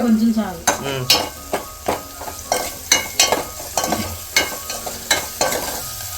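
Ginger garlic paste sizzles in a hot pan while a spoon stirs it in a steady rhythm of scraping strokes, close and moderately loud.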